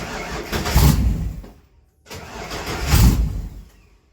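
A Trooper car engine cranks and catches twice, each time surging into a rough, uneven run for about a second before dying back to near silence, loud and close.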